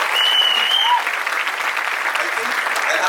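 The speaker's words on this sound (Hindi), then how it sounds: "इस टीम के लिए एक बार जोरदार तालियां" Dense, steady applause fills the room for the team at the Metro In Dino trailer launch, loud and continuous from a large crowd, with a faint whistle or cheer rising above it early on.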